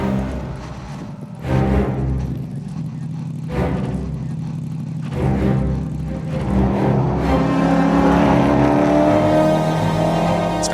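A Mercedes SLS GT3 race car on a track, its engine note rising and falling as it shifts through gears, then climbing into a loud, sustained revving pull near the end.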